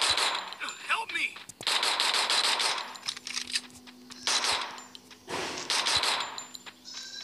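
Bursts of gunfire from a shooting video game, loud rapid volleys in several clusters with metallic pings between them, while players talk excitedly over the action.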